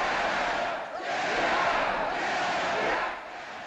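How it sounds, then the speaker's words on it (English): A crowd of prisoners yammers in protest, a dense roaring mass of overlapping voices swelling and dipping, heard from some distance without any distinct words. "What is that, Douglas? They call it yammering"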